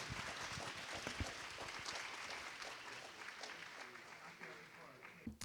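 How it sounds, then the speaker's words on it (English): Applause from an audience at a breakfast event, a dense steady patter of many hands clapping throughout, moderately distant with faint voices mixed in. "Round of applause again for Traci,"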